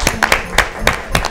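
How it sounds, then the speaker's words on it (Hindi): Guests at an indoor game event clap for the winner, a few distinct, uneven handclaps close by, sparse and irregular rather than a full crowd applause. "भरपूर तालियां इनके लिए"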